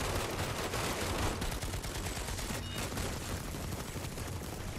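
Dense rapid gunfire fills an online video game battle, a continuous crackling barrage of overlapping shots with a sharper burst partway through, loud and steady without speech.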